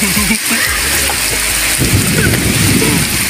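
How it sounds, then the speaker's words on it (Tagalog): Heavy rain pours down at Maples River in Pogonsili, Aguilar, Pangasinan during the rainy season, a loud, steady dense patter close by with low rumbling underneath throughout. "Guys, malakas po ang ulan dito sa Pugunsili River."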